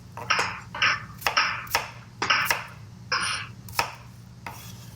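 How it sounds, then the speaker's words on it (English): A knife chops shallots into small pieces on a board, about ten crisp, evenly spaced cuts close by, with no voices. "Chop them into pretty small pieces."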